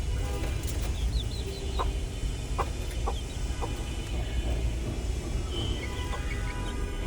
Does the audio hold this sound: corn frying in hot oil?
no